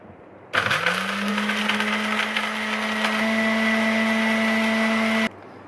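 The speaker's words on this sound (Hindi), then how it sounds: "तो अब हम इनको ग्राइंड करते हैं।" Electric spice grinder whirring at high speed through roasted cumin and dry coriander, starting abruptly, running loud and steady for about five seconds, then cutting off sharply.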